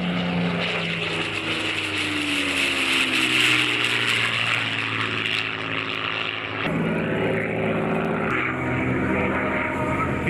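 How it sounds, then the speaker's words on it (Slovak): Supermarine Spitfire with a 1700-horsepower piston engine making a low pass at a Slovak air show: a loud, sustained propeller roar whose tone bends downward as it passes, then a brief dip and renewed drone. "Vidíme lietadlo Spitfire znovu."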